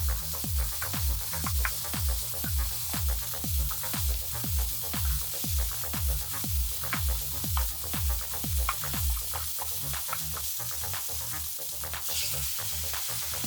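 Vegetables stir-fried all at once in a hot pan for spicy small octopus, a steady sizzle with rhythmic scraping strokes of the spatula roughly every half second, close and continuous with no talking.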